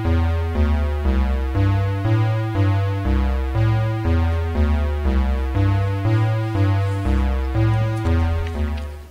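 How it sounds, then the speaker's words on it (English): A synthesized pentatonic riff loops a short run of evenly spaced notes over a steady bass pulse, bright and upfront, repeating for several bars. "A riff is a short repetitive melody"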